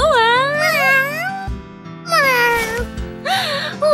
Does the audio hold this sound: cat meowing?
yes